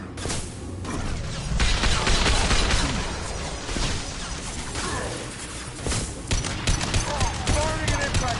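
Rapid gunfire and impacts from the Mass Effect 2 video game, a dense burst of shots and crashes running loud throughout, with game voices and battle noise mixed in.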